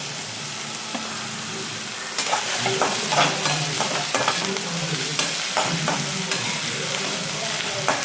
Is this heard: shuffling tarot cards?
no